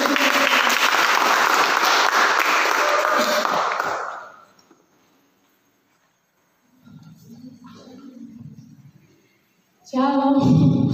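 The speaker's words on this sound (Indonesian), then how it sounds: "Kita berikan tepuk tangan dulu." A church congregation at an evening service bursts into loud sustained applause that fades out after a few seconds, followed by a speaker talking into a microphone.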